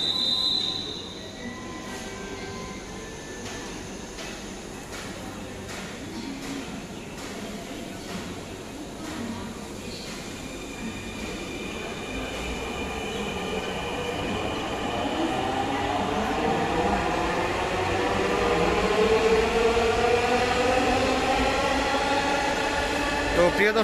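Dhaka metro rail train riding between Motijheel and Dhaka University, with a steady rumbling cabin roar and wheel squeal that rises into long, high, shifting tones, growing louder toward the end.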